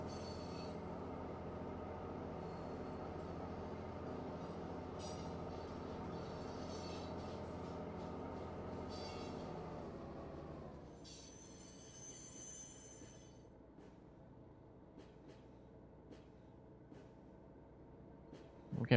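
A diesel train in the Train Mechanic Simulator 2017 game rolls along with a steady, loud rumble and rattling wheels, then the noise drops away and faint metallic squeals and clicks remain.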